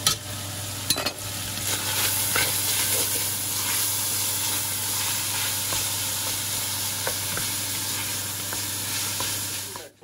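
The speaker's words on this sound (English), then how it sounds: "Very important to make sure you cook your peppers real well for the flavor." Bell peppers sizzle steadily in a hot pan for spaghetti sauce, a loud continuous frying hiss with occasional stirring scrapes and pops throughout, close up and without speech.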